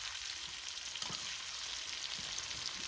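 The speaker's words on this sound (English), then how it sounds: "See that frying, it's smelling so good" Garlic butter shrimp frying in a pan with vegetables, a steady close sizzle with faint crackles and pops throughout, no voices.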